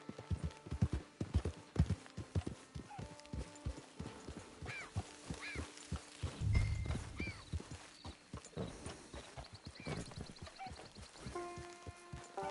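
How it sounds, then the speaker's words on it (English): Horse hooves clip-clop at a camp in a PS4 video game, a steady walking rhythm of hoof strikes up close, with a brief snort or whinny midway and a few faint chimes near the end. "It's your horse."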